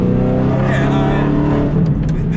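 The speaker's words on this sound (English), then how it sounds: "Do you know what kind of car this is? It's an Audi R8" An Audi R8 supercar engine hums and revs up with a rising tonal roar, close and loud, while people talk over it inside the car.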